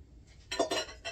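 Ceramic mugs and bowls clink and knock together in quick, close succession as a small kitchen cabinet is sorted, with a few sharp contacts followed by a softer clatter.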